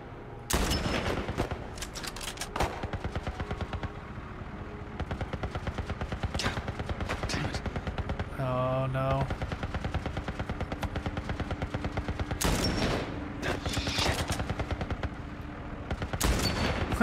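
Rapid bursts of gunfire from The Last Of Us, loud sharp cracks repeating in fast volleys through most of the stretch, with a brief pause for a mechanical rattle in the middle.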